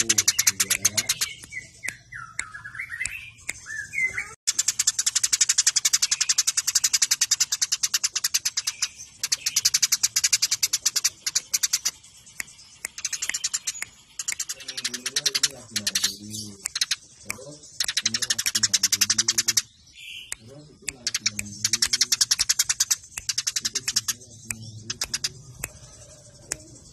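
Songbirds trill and chirp in rapid bursts, loud and close, broken by short pauses, with a few spoken words in between.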